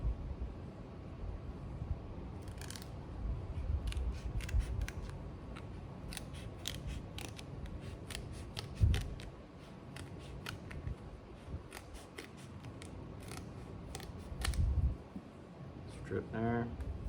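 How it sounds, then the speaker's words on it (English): Scissors snip through a strip of sticky-back craft foam for a sword pommel build, making a quick series of quiet, crisp cuts and clicks. A soft voice talks underneath. "I'm gonna cut one more strip out."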